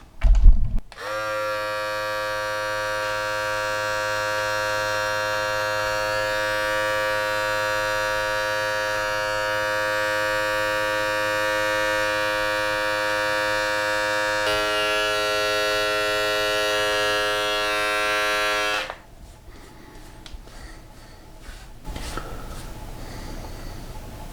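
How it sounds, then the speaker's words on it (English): A Philips Norelco Multigroom 7000 electric beard trimmer runs close up with a steady, loud buzzing whine for about eighteen seconds, then switches off, leaving quiet room noise and small handling sounds. "that's about it as far as using the trimmer"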